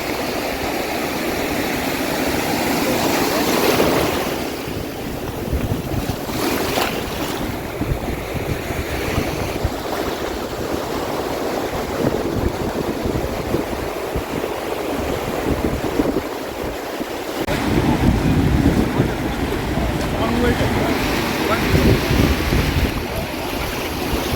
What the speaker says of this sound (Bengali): জোরে জোরে ঢেউ আসছে